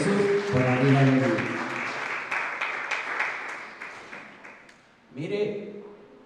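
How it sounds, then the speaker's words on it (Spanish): Congregation applause during a church service at Iglesia El Shaddai in Rosarito breaks out after a voice, claps rattling steadily and then thinning away before another voice resumes. "damos un fuerte aplauso al Señor Jesús por la vida de Lee"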